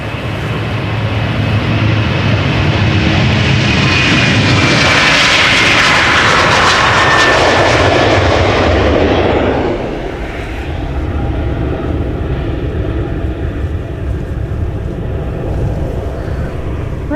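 El Al jet departing Amsterdam Schiphol Airport, a loud, close engine roar that swells with a rising whine and sweeping pitch as it passes, then eases into a lower rumble with some wind buffeting.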